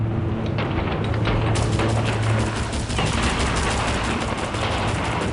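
Sustained machine gun fire in a wartime battle, a dense, continuous rattle of rapid shots with bursts overlapping, loud and unbroken for several seconds.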